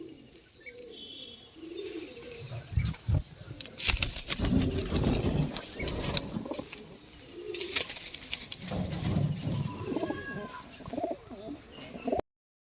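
A female pigeon drinks water while pigeons coo nearby, with soft low cooing and scattered chirps, plus irregular rustling and taps up close.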